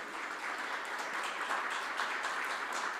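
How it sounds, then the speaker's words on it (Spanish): A church congregation claps in brief, continuous applause at a steady moderate level, with no speech over it. "Un aplauso para todos aquellos que ya salieron."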